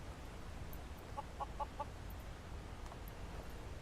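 Chickens cluck in Skyrim, a short run of four quick clucks that sound faint and distant over a steady low background rumble.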